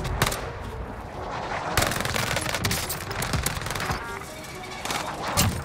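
Rapid automatic gunfire from a PPSh-41 submachine gun in Call of Duty: Vanguard, dense, continuous bursts filling the whole stretch with sharp crackling shots at close range.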